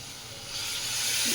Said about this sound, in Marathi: आणि मी आता गरम पाणी ओतते.